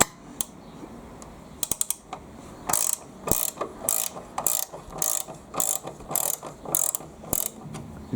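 Ratcheting gear spanner loosening three 13 mm nuts on a Makita MLT100 fence rail, a close series of rapid clicking ratchet bursts repeating in a steady rhythm, with a few sharp metallic knocks between them.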